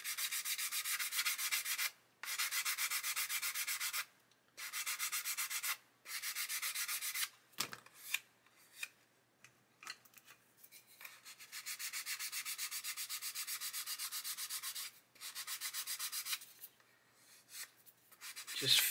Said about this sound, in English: and just blend out where we've scraped.